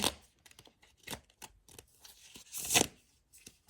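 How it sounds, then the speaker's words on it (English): A deck of tarot cards is shuffled by hand in a quiet room, a series of quick papery riffles and flicks in irregular bursts, with one louder rush near the end. "One more good shuffle."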